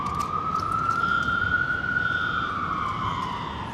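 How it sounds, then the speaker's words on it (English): Emergency vehicle siren wailing near Dallas Love Field airport on a rainy day, one steady rising-and-falling tone echoing at moderate distance over constant background noise. "I'm hearing more sirens echoing."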